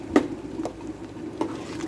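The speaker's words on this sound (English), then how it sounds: "Give that a good stir." Homemade marinara sauce being stirred in a big pot, a few soft knocks and scrapes of the spoon spaced irregularly over a low bubbling simmer, close and fairly quiet.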